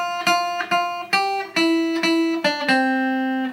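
Guitar phrase from an intermediate lesson, two bars of clearly picked single notes with ringing harmonics, about eight evenly spaced plucks, close and clean with no talking.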